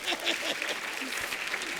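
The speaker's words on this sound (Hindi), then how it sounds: "एक बार जोरदार तालियां हो जाए हमारे मेहमानों के लिए।" Studio audience on a comedy talk show breaking into applause for guests, a brief steady burst of clapping with some voices mixed in.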